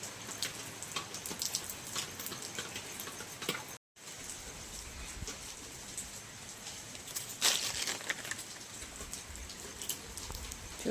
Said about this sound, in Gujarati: ચાલુ વરસાદ